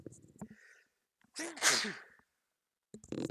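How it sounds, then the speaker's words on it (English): A single sharp sneeze with an audible intake of breath before it, between brief bits of quiet vocal sound. "Sorry, I have to sneeze."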